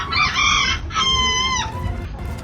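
A chicken in the video game Jurassic World Evolution 3 lets out a loud, close rooster crow in two drawn-out rising and falling phrases, ending in a softer cluck.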